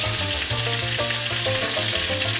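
Pork chops sizzle loudly in a hot pan, a dense, steady frying hiss with crackles running throughout, no voices.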